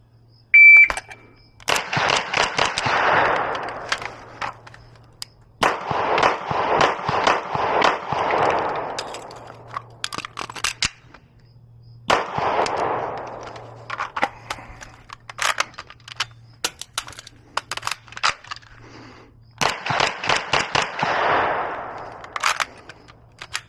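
Rifle shots fired on an outdoor range with a rifle fitted with an ACOG sight, sharp cracks in clustered groups separated by pauses, each crack trailed by a brief echo, with no talk.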